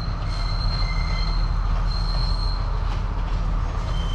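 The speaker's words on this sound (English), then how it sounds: "Wow, the train is here, guys." A train pulls into a station in Sri Lanka with loud, continuous wheel squeal and a deep steady rumble of rolling railcars, close by throughout with no talk.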